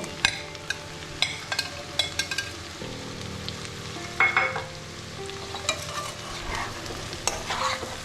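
Chicken mince with jackfruit and fried potato, seasoned with turmeric, stirred and fried in a pan: a steady close sizzle with repeated scraping strokes of a spatula and occasional clinks against the pan.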